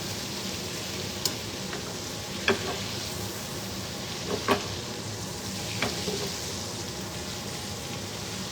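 Butter sizzles steadily in a pan turned down to medium while a chicken piccata sauce is being made, a close, even crackle with a few sharper pops and clinks scattered throughout.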